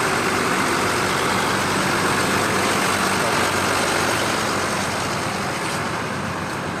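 A Mercedes-Benz 1518 DAMRI bus on the Palembang route idles with a constant, loud diesel rumble and hiss, with voices faintly audible in the background.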